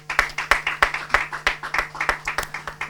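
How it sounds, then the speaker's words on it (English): Sparse applause at a televised show comes as a regular series of sharp, close claps in an even rhythm, roughly three per second, with a faint hum underneath. "A round of applause for that."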